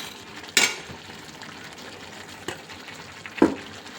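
Water poured into a hot pan of cooking crab sukka produces two sharp sizzling bursts, one early and one near the end, over a quiet background of faint pan noise.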